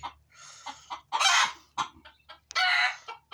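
Chickens cluck in short bursts close by, with a couple of louder, drawn-out squawks breaking through against a quiet background, on a foggy early morning in Abdali, Kuwait.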